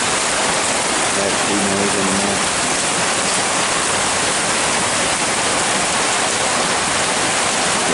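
Heavy rain pours steadily in eastern Kentucky, a dense, loud, unbroken hiss of water falling on surfaces, with someone talking briefly over it.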